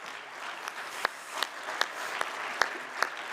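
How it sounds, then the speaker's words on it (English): Sparse clapping from a meeting audience at an annual general meeting, a handful of distinct claps spaced roughly every half second over a quiet room. "you already applaud"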